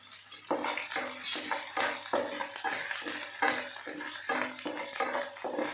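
Green chillies and chopped ginger sautéing in a pan for rava upma give a steady close sizzle, broken by repeated scraping stirs in a regular rhythm, with no talking.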